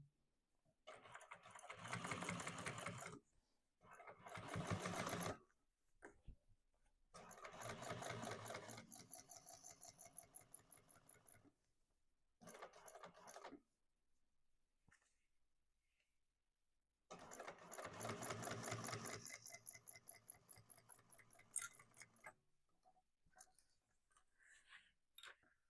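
A sewing machine top stitches all the way across a modified Mercury bag, running in several loud bursts of steady whirring stitching separated by short pauses, with no talking.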